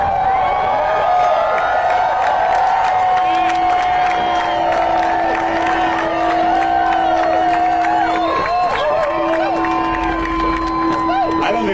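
A vast outdoor rally crowd of union members cheers and whoops continuously in a loud, dense roar, with scattered shouts and applause over a steady crowd bed.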